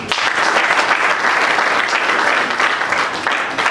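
Sustained applause from voters at a party election in Kinshasa, dense and steady clapping throughout.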